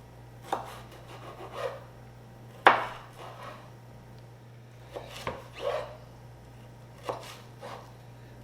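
A knife chops bell peppers on a cutting board at home, a series of irregular, close thuds and scraping knocks spaced a second or so apart over a steady low hum.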